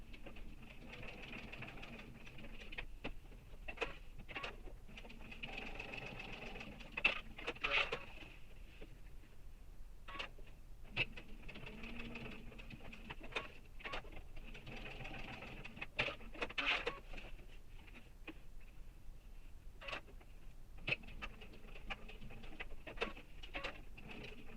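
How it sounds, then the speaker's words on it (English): A sewing machine echo stitching a quilted backpack panel, its needle whirring in short bursts of varying length with brief pauses between runs, close and moderately loud, no talk. "And now I'll continue doing stitching, echo stitching as a quilter would call it."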